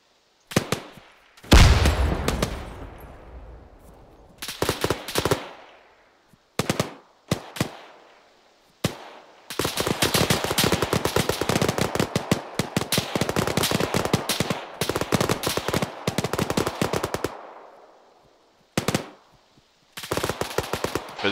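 Arma 3 crossfire: rapid machine-gun bursts and single gunshots, some loud and close, with sharp cracks and echoing tails, a long sustained volley in the middle and short separate bursts before and after.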